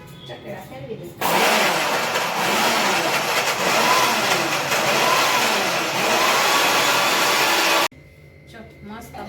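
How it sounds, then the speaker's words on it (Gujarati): Mixer grinder crushing ice for a raw mango sharbat with mango and sugar, a loud, steady whirring grind that starts abruptly, runs about six and a half seconds with no talk over it, then cuts off. "હવે મિક્સરમાં બરફ નાખીને પીસી નાખી."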